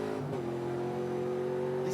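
Trans Am series race car on track at Bathurst, its engine revving with a steady sustained drone that climbs slightly in pitch, loud and close with no talk.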